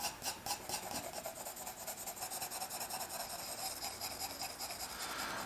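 Graphite pencil shading on paper while drawing an avocado, a soft continuous raspy scratching with quick back-and-forth stroke rhythm, close and quiet with no voices.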